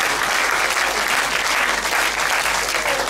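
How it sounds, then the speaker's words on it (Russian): Sustained audience applause at a congress church service, dense and steady throughout with no speech over it. "Clap. Хлопайте."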